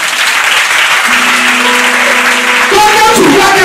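A church congregation claps and cheers loudly in acclaim of the Lord, a dense continuous wash of applause that swells near the end, with a voice heard through it.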